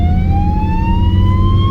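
Polish ambulance siren wailing loud and steady, a single rising tone held throughout over low road rumble from traffic.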